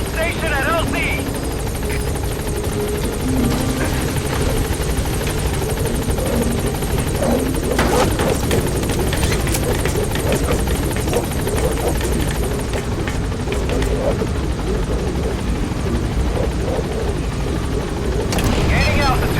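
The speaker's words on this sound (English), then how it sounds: "Pequod, on station at LZ." The Pequod helicopter arriving at a landing zone in Metal Gear Solid V roars loud and continuous with heavy rotor thrum throughout, while a radio voice speaks over it.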